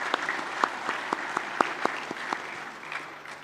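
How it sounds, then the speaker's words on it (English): Scattered hand claps ring out in a large hall during a formal Chartered Accountants' Day ceremony, a handful of distinct, fairly faint claps spaced irregularly over a quiet room tone. "Let's have a round of applause for everyone"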